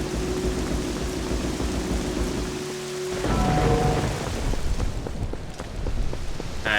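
Steady rain pours and thunder rumbles in a thunderstorm in Zelda: Twilight Princess, with a low roll swelling midway under continuous rainfall and a few distant tones, no voices.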